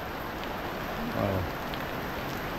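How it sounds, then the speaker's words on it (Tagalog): Heavy rain pours steadily outdoors near a house on a dark, overcast day, a dense, continuous hiss close by with no pauses, alone and without talk. "Lakas ng ulan niya yun dito"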